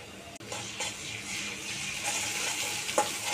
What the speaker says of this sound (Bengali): পেঁয়াজটা গরম হলে আগে একটু পেঁয়াজটা লাল করে ভেজে নিলাম